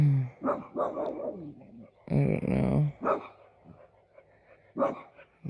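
A dog barks in short bursts, a few sharp yaps scattered across the moment, with a brief spoken phrase in between.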